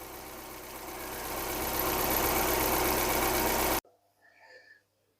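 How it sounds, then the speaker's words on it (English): A Ford Cosworth engine idles in a workshop with a valve lifter ticking, a steady mid-pitched rumble that swells gradually louder and then cuts off abruptly, leaving only faint quiet background sound. "That lifter's getting quieter."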